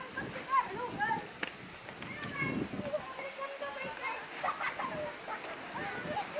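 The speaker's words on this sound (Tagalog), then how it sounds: "Sobrang hangin na po talaga, grabe. Malakas na yung tubig po sa dagat, mga alon." Strong coastal wind roars steadily over choppy sea waves as a storm builds with light drizzle, a dense continuous rush of noise with voices faintly in the background.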